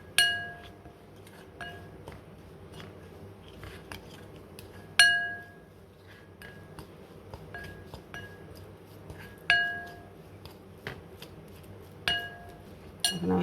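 Spoon clinking against a glass or metal bowl while chicken marinade with tandoori spices is mixed; sharp intermittent clinks and taps over a quiet background, no talk.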